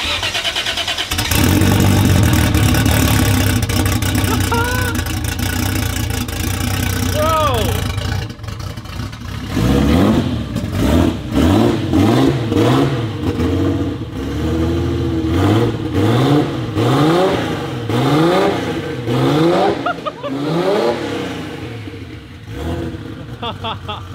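A Toyota 2JZ engine in a 1000 hp 4Runner cranks and catches, then settles into a rough idle before a series of sharp revs rising and falling repeatedly, close up by the exhaust, with voices in the background.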